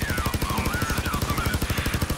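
A helicopter in the game Payday 2 fires a rapid, steady burst of automatic gunfire, about eight rounds per second for two seconds, loud and close, with a faint wavering tone above it.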